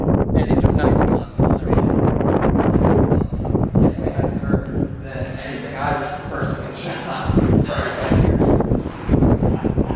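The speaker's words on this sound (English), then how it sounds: "This wind is like whipping." Strong wind gusts buffet the microphone at an outdoor skeet shooting range, a steady loud rushing roar that runs through the whole stretch while people talk over it.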